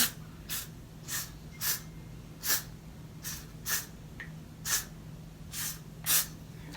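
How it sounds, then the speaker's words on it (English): A spray bottle pumped in a steady series of about ten short, crisp hissing bursts spaced evenly apart, close by, with no talking. "Yes, I'm gonna spray it."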